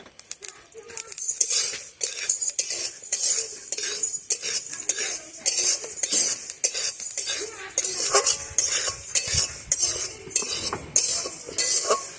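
Sesame seeds roasting in a pan, with rapid crackling pops mixed with the scrape and clink of a stirring utensil against metal, busy and close throughout.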